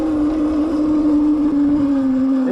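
A Qronge X1 Spark mid-drive electric dirt bike ridden across a field with whoops, its motor giving a loud, steady whine with a slight pitch drift, close up and without talk.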